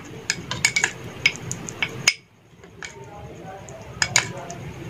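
A spoon clinks and scrapes against a bowl while a homemade face pack is mixed, bursts of sharp metallic taps with a short pause between them, close by.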